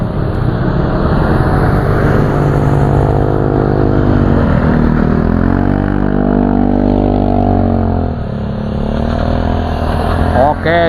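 A motorcycle climbs the steep Puncak 2 hill road with a loud, continuous engine drone that rises and falls in pitch as it accelerates, with voices talking over it.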